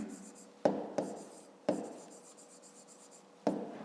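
Pen or pencil strokes on paper during a maths exercise, a few sharp close taps and short scratches spaced irregularly, quiet in the room.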